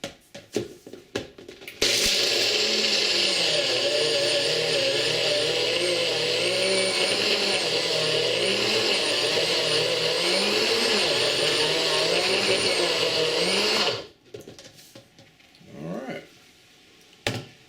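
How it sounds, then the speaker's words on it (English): An electric spice grinder runs at a steady high whine for about twelve seconds while grinding dry garlic chutney spices, starting and stopping abruptly, with quieter handling sounds on either side. "Now you don't want to grind that too long because then you'll start to make peanut butter."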